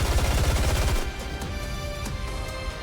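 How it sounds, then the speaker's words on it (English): Gunfire from the character Snow White in the video game Goddess of Victory: NIKKE, a dense burst of rapid shots for about a second that drops into a rumbling, crackling tail with scattered impacts. "Gunfire, unmistakably, Snow White's, erupts from behind."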